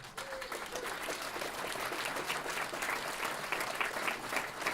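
An audience at a Libertarian convention Senate debate applauds the candidates, dense sustained clapping from a large crowd at a moderate distance, steady throughout.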